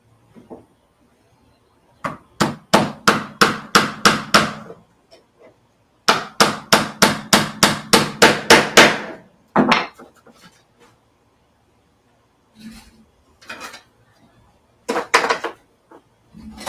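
Bursts of quick hammer blows on wood during a router table build, close and sharp, coming in rapid runs of a dozen or so strikes with pauses and scattered single knocks in between.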